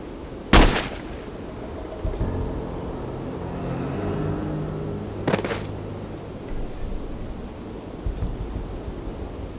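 Gunshots ring out in the video game No One Lives Forever, one sharp loud crack early, then a second burst midway over a low rumbling background.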